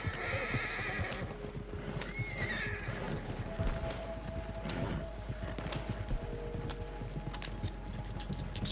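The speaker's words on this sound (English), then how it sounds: "Just whipping the fuck out of these horses" Horses gallop in Red Dead Redemption 2, a rapid, continuous clip-clop of hooves with an occasional neigh and whinny over a low, steady rumble, heard without any talking.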